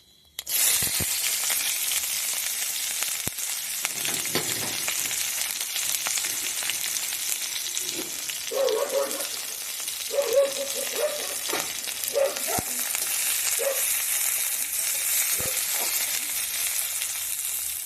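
Onion and chopped green chili frying with whole coriander seeds in a pan give a loud, continuous close-up sizzle, with a few stirring clatters and a faint voice briefly heard under it.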